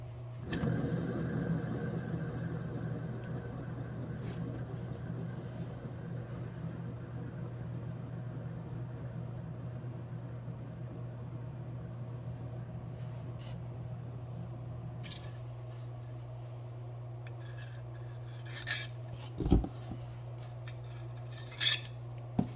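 Canvas covered in poured acrylic paint spinning on a turntable, a steady low motor hum with a faint rasping whir, fairly quiet, joined near the end by a few sharp knocks and clicks.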